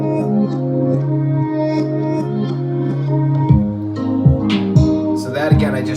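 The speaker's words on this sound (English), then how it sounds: "on that last chord, I started reversing it." A hip-hop beat plays loud and continuous, its final chord chopped and reversed so it swells backward into repeated rhythmic cut-offs over a steady sustained harmonic bed.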